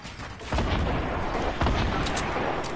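Gunfire in a console shooter video game: booming, heavy shots burst in close succession, with two strong blasts standing out over a dense, continuous rumble of firing, loud and near.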